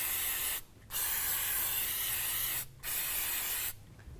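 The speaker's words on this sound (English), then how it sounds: "we're going to grab some silicone spray or some WD-40, and we're going to follow our pipe down, and at every hanger we're going to spray it" Silicone spray or WD-40 hisses from an aerosol can onto rubber exhaust hangers during a Flowmaster Force II exhaust install, three close bursts of steady spray separated by short pauses.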